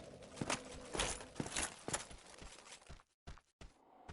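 Footsteps in the video game Dark Souls, a series of soft irregular thuds and scuffs tapping over a dim ambient bed, then a few sharper isolated steps as the surroundings fall quieter.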